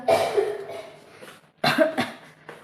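A child coughs in two separate bursts, the first around the start and a second, louder fit after a short quiet pause, each with several harsh, close hacking coughs.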